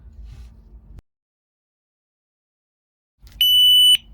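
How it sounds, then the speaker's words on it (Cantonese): A single loud, long electronic beep from a KD6 alarm device, signalling it is armed, sounds near the end after a low rumbling background and a brief stretch of silence. "嗶嗶兩聲表示靜音，嗶一聲表示啟動警報系統"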